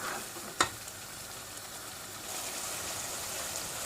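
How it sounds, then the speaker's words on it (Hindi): Masala paste with three bullet chillies for hara chicken cooks in a pan on low heat, a faint, steady sizzle broken by one early clink of a spoon, with no talking. "यहाँ पर इसको थोड़ा सा धीमी आग पे रखेंगे ताकि सारे मसाले इसमें मिक्स हो जाए"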